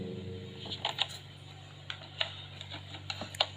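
Keys on a computer keyboard are tapped while Urdu text is typed in Adobe Photoshop, producing sparse, light, irregular clicks up close over a low electrical hum.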